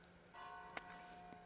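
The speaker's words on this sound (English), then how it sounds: "there are bells, maybe" Distant bells ring in Tuscany, a sustained tolling tone with a few faint higher strikes, soft and far off beneath room quiet, with no talking.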